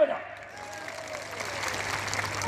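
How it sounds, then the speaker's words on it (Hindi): Crowd at a Hindi-speaking political rally in Jaisinghnagar breaking into applause, a broad steady wash of clapping that swells slightly and holds for a couple of seconds, with a low hum underneath. "अरे सही है तो तालियां बजाओ।"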